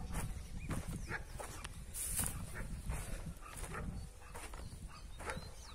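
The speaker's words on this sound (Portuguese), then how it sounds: "Cachorro ali começou a latir." A dog barks outdoors near a small house in a remote spot, faint and distant barks repeating amid rustling and wind-like noise, with no one speaking.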